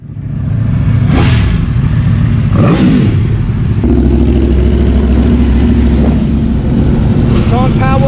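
Several Ducati European sport motorcycles rev on a Miami street, loud rising engine bursts and a sustained low throttle rumble close by, with talk and crowd noise around them.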